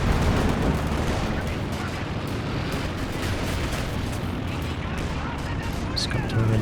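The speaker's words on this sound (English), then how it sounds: "Decent barrage here." Artillery barrage in a Company of Heroes 2 two-versus-two match, a continuous rumbling mass of booms and gunfire blasts that stays loud and dense throughout the battle.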